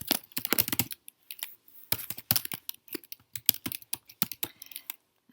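Rapid bursts of computer keyboard typing, close and fairly quiet, in irregular clusters of keystrokes with short pauses between, no voices.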